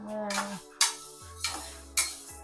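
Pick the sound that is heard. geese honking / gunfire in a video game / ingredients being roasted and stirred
ingredients being roasted and stirred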